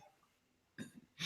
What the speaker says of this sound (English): I noticed that I burp a lot during my Let's Plays